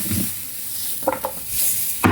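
Lentils and garlic sizzle steadily in a frying pan as a utensil stirs and scrapes through them in a few brief bursts, loud and close with no talking.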